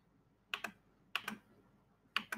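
A computer keyboard clicks as Python code is typed, three small clusters of two or three quick keystrokes each, close and quiet with silence between.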